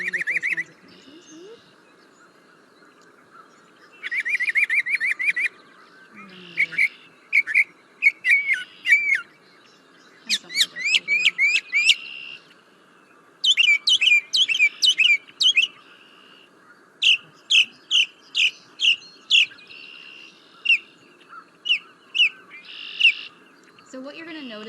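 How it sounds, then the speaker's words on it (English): Mockingbird singing outdoors, bright whistled phrases and chirps in short bursts, each pattern repeated several times before switching to a new one, clear and close over quiet background. "what you're going to notice with mockingbirds is they often perform the same song maybe 2 to 3 times before switching gears to a different noise"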